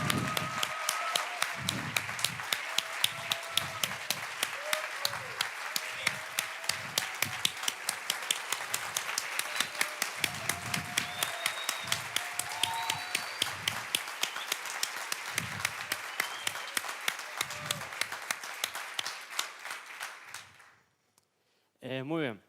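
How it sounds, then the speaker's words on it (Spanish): Steady audience applause for Juan Pablo in a teacher training session, dense clapping sustained for about twenty seconds with faint voices mixed in, then cutting off abruptly near the end. "Un aplauso para Juan Pablo"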